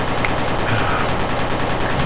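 A tail gunner weapon firing in the game Utopos, a dense, continuous stream of rapid automatic shots that stays loud and unbroken throughout, with no talking.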